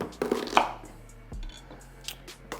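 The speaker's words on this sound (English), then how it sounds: "we're going to just drive the knife down the center and then rip it down the sides" A knife is driven down through a kabocha squash and then ripped down its sides. The result is a few close, crunchy cuts and thuds, with a dull knock of the blade hitting the board partway through.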